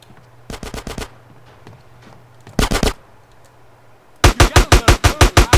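Gunfire rattles in GTA San Andreas during an attack on Smoke's crack fortress: a quick volley of four shots, a short dense burst, then a loud rapid string of about ten shots, all close and punchy.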